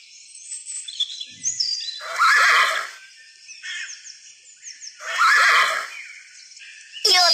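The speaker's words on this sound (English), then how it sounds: "Horse." Horse neighing on a farm, several loud whinnies in separate bursts with a final call cut off at the end, heard alone against quiet background birdsong.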